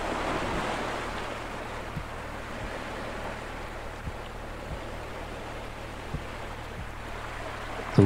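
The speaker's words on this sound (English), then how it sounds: "The water from this waterfall" Water from a waterfall fed by a mineral spring rushing steadily, a dense continuous roar with no pauses, fairly close and even in loudness.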